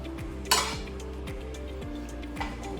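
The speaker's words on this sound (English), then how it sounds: "just going to remove them out of the pan and just put them on a little bit of a kitchen roll" Fried onion bhajis are lifted out of a frying pan onto kitchen roll, with a couple of sharp metallic clinks of a utensil against the pan over a steady background hum, close by and with no speech.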